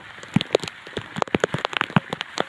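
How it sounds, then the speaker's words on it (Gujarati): Rain falls on a cotton farm during monsoon fieldwork, with close drops pattering irregularly on nearby surfaces in quick, uneven bursts and no talking. "અત્યારે વરસાદ જો ચાલુ છે પાણીના છાબલા ભરાઈ ગયા"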